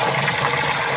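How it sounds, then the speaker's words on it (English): A garden hose runs steadily into a basement sump pump pit, giving a close, loud, continuous gush of water pouring and filling. "So I put the garden hose in here. We'll fill up that pit."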